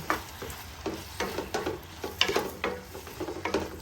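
A spoon stirs mixed Italian pasta ingredients in a hot pan, giving rhythmic scraping strokes over a soft sizzle at moderate volume, with no talking.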